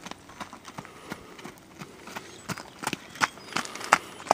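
Horse hooves thud and clop on the ground of a round pen in an irregular trotting rhythm, fairly close, with faint background noise.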